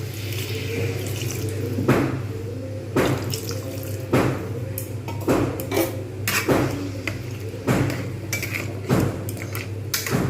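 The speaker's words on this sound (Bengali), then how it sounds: "এতে এবারে জল দিয়ে দেবো জল দিয়ে ঢাকনা দিয়ে দেবো" Water splashes into a pan of Bengali vegetarian potato poppy-seed curry (aloo posto), a continuous close pour broken by repeated clinks and knocks of metal cookware.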